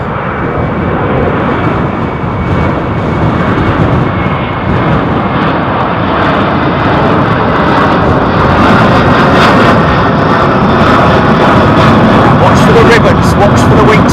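Airbus A330 climbing out of London Heathrow after takeoff, its jet engines holding a loud, steady roar that swells slightly toward the end, with a voice speaking over it at times.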